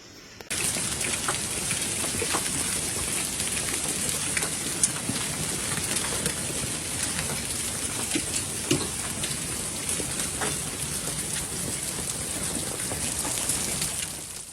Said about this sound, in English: look, it's hailing